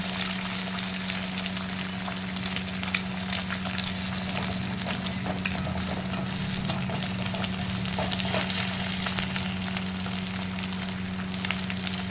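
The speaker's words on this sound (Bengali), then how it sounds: "পড়ে গেল ডিম কড়াইতে।" An egg fries in well-heated oil in a wok, giving a steady, loud sizzle that holds evenly throughout, with a constant low hum underneath and no talking.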